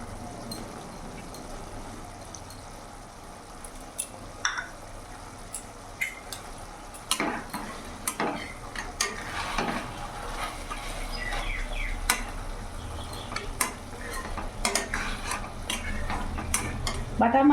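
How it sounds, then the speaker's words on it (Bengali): Bata fish bhuna simmering in a pan, a soft steady bubbling hiss with scattered clinks of a spoon or spatula against the pan and a few sharper scraping taps, close and moderately loud. "মাছ দিয়ে কিছুক্ষণ ফুটিয়ে নিয়েছি"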